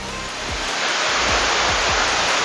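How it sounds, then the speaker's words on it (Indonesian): Fast, heavy river water rushes from a hidden jungle waterfall in Simalungun, a loud steady broadband roar with a few low thumps beneath it and no voices. "kita bisa lihat aliran sungai dari air terjunnya yang begitu deras"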